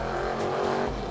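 A classic front-engined, rear-wheel-drive racing car on the streets of Porto gives a short, loud burst of steady engine roar at close range, with no talking.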